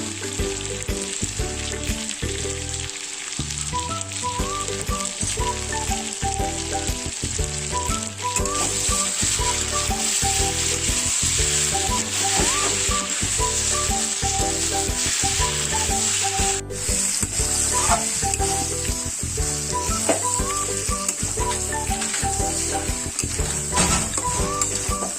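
Local chicken pieces fry with fried potatoes and coriander, making a loud, continuous close sizzle. Regular scraping stir strokes and a faint musical backing run underneath, with no talking.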